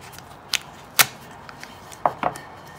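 A blade cuts pieces off a handmade medals box, producing a few sharp, close snipping clicks spaced irregularly over a faint quiet background, with no voices.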